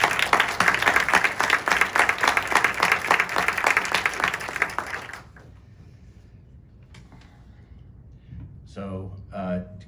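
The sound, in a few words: applause for state representatives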